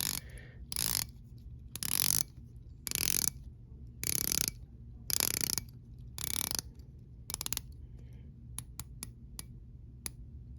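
A titanium watch bezel turned by hand makes several crisp ratcheting click bursts, each about half a second long, close and fairly quiet. A few sparse single clicks follow near the end, with no voices.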